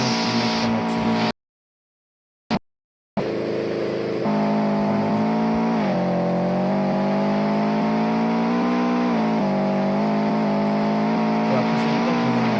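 A race car engine drones steadily through a race in the Car Dealership Tycoon video game, loud and continuous with slight pitch swells as it shifts, broken once by two short silent dropouts.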